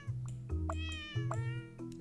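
A cartoon cat in the puzzle game Cats Organized Neatly gives a few short, bright meows in quick succession over a steady low musical backing.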